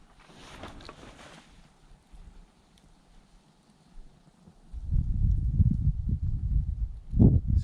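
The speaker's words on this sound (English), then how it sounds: "this bit of wind that we have right now would have blew it out" Wind gusts outdoors beside a fire-starter test, with a brief hiss early on, then strong low rumbling buffeting on the microphone that swells loudest near the end.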